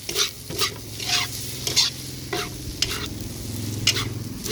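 Rice vermicelli (bihun goreng) being stir-fried in a wok at a Pudu Road stall, with repeated scraping strokes of the spatula over a steady sizzle and a low background hum.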